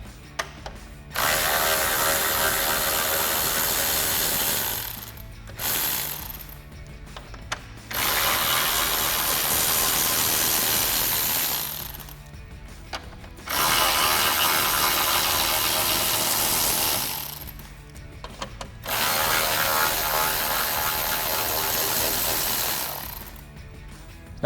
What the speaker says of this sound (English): remove our four 10mm bolts at the top of our grille, holding it in